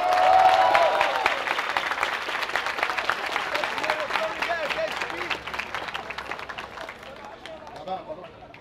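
A crowd at a Brazilian rap battle cheers and applauds loudly, dense clapping and shouting that starts strong and slowly thins out, while a voice speaks over it.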